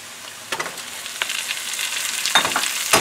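Chicken pieces fry in a pan with ground onion and garlic, a close, steady sizzle with crackling bursts and scraping stirs throughout, and no voices.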